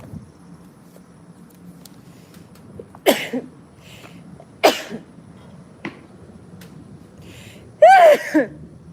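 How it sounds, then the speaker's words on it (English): A few short, sharp nasal bursts, probably sneezes, break a quiet background, with a louder, drawn-out one near the end. "I'm about to sneeze."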